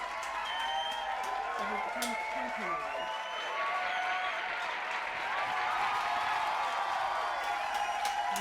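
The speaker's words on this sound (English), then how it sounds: "let's give a round of applause to the audience" Studio audience clapping and cheering after a drag-themed cookie show, a steady wash of applause with scattered whoops, while a voice talks over it.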